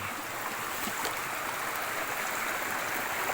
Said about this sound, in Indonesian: menyusuri sungai seperti ini sangat menyenangkan